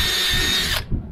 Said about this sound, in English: I like to take it off to drill the hole,